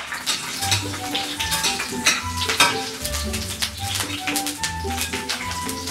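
Onions frying in a pan for a home-cooked dish of cabbage with chicken and squid, giving a steady close sizzle with scattered stirring scrapes and light clinks of utensil against pan throughout.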